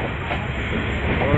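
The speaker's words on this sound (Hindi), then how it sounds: "अभी चल रहा है ट्रेन, ये देखिए अभी निकल चुका हूं।" A moving passenger train on the Rajendra Nagar to Guwahati route, heard from inside as a steady, loud rumble and hiss with a continuous rolling drone.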